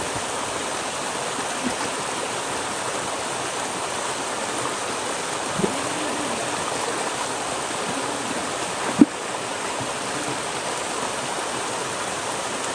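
Stream water and a waterfall on the Boalia trail, flowing in a steady broad rush that stays even throughout, with a faint knock or two and no speech.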